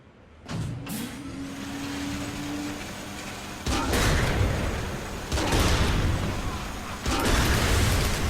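Tank in the Tank Mayhem activity of Saints Row: The Third, heavy vehicle engine and mechanical rumble in loud surging bursts with crashing destruction noise, set against game music.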